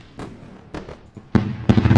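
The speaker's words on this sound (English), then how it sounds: "I will take a fireworks show for this one, guys." A fireworks show sound effect: four separate booming bursts at uneven intervals, the last two louder and fuller with crackling tails, and no talking over them.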